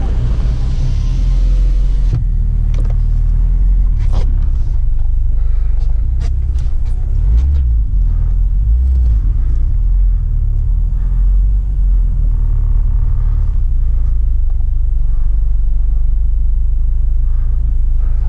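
A new 2019-or-later UAZ Patriot drives across a muddy off-road field in two-wheel drive, its engine a loud, steady low rumble throughout, with occasional knocks and rattles from the body and no talking.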